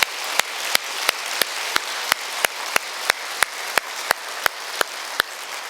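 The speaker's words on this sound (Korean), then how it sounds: "우리가 다시 한번 우리 하나님께 우리 큰 영광의 박수를 올려드리겠습니다." A church congregation applauds in a steady broadband wash of clapping, with sharp regular accents like synchronized rhythmic claps about every third of a second, sustained and fairly close.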